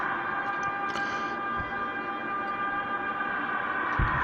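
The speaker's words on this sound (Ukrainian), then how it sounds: "Играют сирены, канонады со стороны восточного сейчас на данный момент идут" A wartime air-raid siren drones steadily and loudly as a sustained tone through the whole stretch, with low thuds of distant shelling from the east, no voices present.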